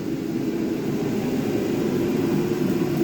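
A vacuum cleaner runs continuously while it cleans dirt off an engine during a Caprice LS engine removal, giving a steady, loud, even whooshing roar with no breaks or speech.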